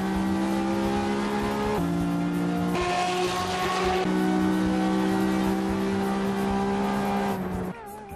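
A race car in Assetto Corsa on PS4 runs a lap, its engine a steady, close droning whine that steps in pitch through several gear changes before easing off at the end, with no voices.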